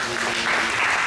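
A church congregation claps together in praise of the Lord, a brief burst of loud, dense applause filling the room with some voices mixed in.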